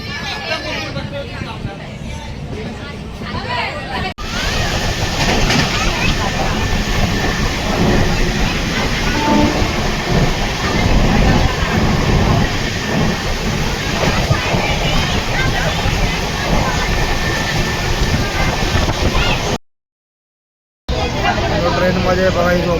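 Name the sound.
train departing, heard from inside the carriage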